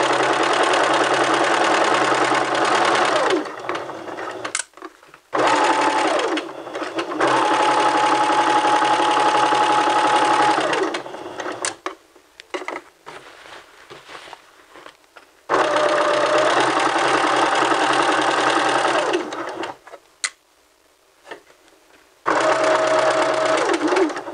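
A sewing machine stitches a dress seam in several loud bursts of rapid, even whirring, separated by short quiet gaps and a few clicks as the fabric is repositioned.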